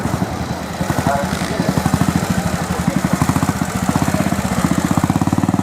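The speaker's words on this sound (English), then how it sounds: "this is our secretary yet again on Pete's Triumph Trophy" Triumph Trophy motorcycle ridden through a vintage trials section at a VMCC founders day event, its engine thumping in a steady, close, rapid pulse that rises slightly in pace, with some background voices.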